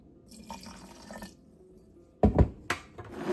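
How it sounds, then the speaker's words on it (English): Water is added to a datil pepper hot sauce mixture in a kitchen: a brief trickle, then a pause, then a few splashy pours, close and fairly loud. "Go ahead and add in a little bit of water."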